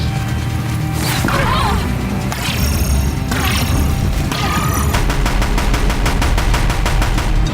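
Loud, rapid automatic gunfire from a grabbed gun in a video game, sustained bursts with impacts and crashes, the rhythmic firing growing more regular toward the end.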